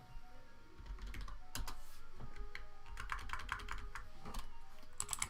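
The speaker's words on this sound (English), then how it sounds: "I must have heard the clicking of my keyboard." A computer keyboard clicks with rapid, uneven typing, bursts of crisp keystrokes close by with short pauses between runs.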